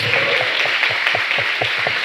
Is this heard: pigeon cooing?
no